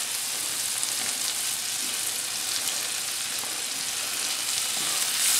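Sweet potatoes and onions sauté in a pan with a dense, even hiss of sizzling oil that holds steady and close for several seconds, no voices over it.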